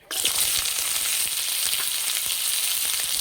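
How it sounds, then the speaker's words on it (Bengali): Chopped onion frying in hot oil in a wok gives a loud, dense, unbroken sizzle that starts suddenly, sits close by and continues without any voices. "তেলের মধ্যে দেবো কোচানো পেঁয়াজ"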